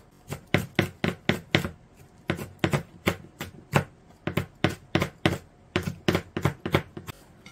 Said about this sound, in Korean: 4등분을 해서 입자를 작게 썰어줍니다.